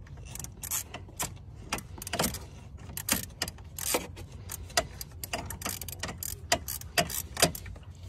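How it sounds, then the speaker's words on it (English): A ratchet loosens screws on the M157 bi-turbo engine of a Mercedes ML63, making rapid repeated clicking bursts with metallic rattles, close up and steady for several seconds, with no talking. "Now we're going to remove these two screws."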